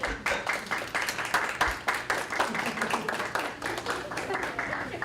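Audience clapping in a hall during a college convocation ceremony for social and behavioral sciences students, a steady patter of many hands over about five seconds with a murmur of voices beneath.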